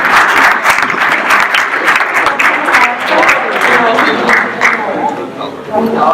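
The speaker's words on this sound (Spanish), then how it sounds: "Un aplauso para ti." An audience bursts into sustained, dense applause at a conference in Barcelona, loud and close, with scattered voices mixed in.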